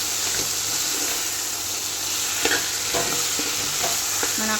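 Potato and tomato curry sizzles loudly in oil while a spoon stirs it, making repeated scraping knocks over a constant frying hiss.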